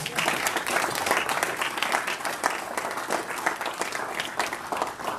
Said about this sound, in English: Let's have a big round of applause for Mike.